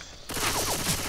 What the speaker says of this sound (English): Stop fucking shooting me, you fucking dildo.